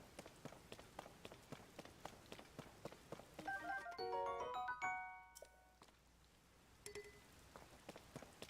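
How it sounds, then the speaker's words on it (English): Rain begins falling in The Legend of Zelda: Tears of the Kingdom, a soft steady patter under rhythmic footstep-like taps, with a brief bright chiming flourish in the middle and no talk. "Now it starts raining."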